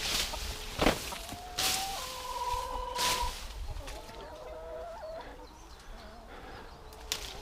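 Several hens cluck and croon nearby, with drawn-out tonal calls and a few sharp squawks over a quiet outdoor background.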